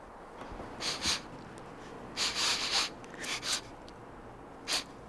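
A person sniffing like a dog, with a series of short, sharp nasal sniffs in irregular clusters, close to the microphone over a quiet background hiss.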